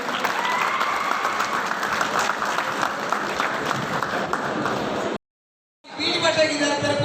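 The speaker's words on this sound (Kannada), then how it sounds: "ಜೋರಾದ ಚಪ್ಪಾಳೆ ಬರಬೇಕು" An audience at a public event applauds the Kantara film team, a sustained wave of loud clapping that lasts about five seconds before a brief silence, followed by voices and crowd noise.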